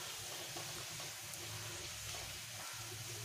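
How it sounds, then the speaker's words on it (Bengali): Garlic sizzles steadily in hot oil in a pan, a close, even frying hiss with a few small crackles, cooked as the base for a Bengali Rasuni Latha fish curry. "ততক্ষণ এই রসুনটাকে ভালো করে ভেজে নিতে হবে"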